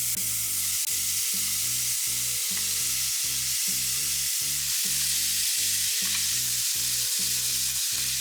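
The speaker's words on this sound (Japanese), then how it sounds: "最初に肉と野菜を強火でさっと焼きます。" Meat and vegetables stir-frying over high heat give a loud, steady sizzle with a broad hiss, and a rhythmic pulsing runs through it all the way. No voices are heard.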